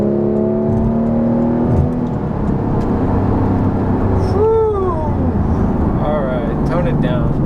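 A Porsche GT3 engine revs hard while driving, a loud, continuous mechanical roar from inside the car with pitch rising and falling across several gear pulls, steady road noise throughout.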